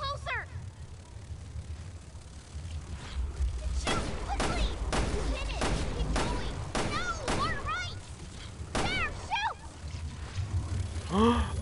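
Gunfire in Resident Evil Revelations 2 against invisible monsters, a run of sharp repeated shots in quick succession over game ambience, with a player talking over it.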